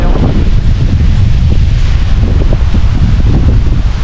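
Strong wind from Typhoon Kristine (Signal No. 1) in Bohol, Philippines, buffets the microphone in a steady, heavy low roar with gusty rumbling throughout, swaying pomelo tree branches, no voices.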